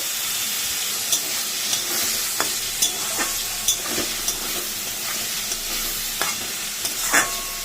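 Rice frying in a pan gives a steady, soft sizzle, punctuated by regular scraping taps of a spatula stirring it, fairly quiet and without talk.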